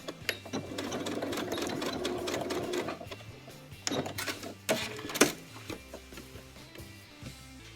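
A sewing machine stitches a zipper into a pencil skirt, its motor whirring in a steady run for about three seconds, then starting and stopping in short bursts with a few sharp clicks, close and alone.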